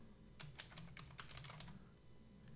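Keys clatter on a computer keyboard in a quick burst of typing, about a dozen close, crisp clicks over a low steady hum before trailing off into quiet.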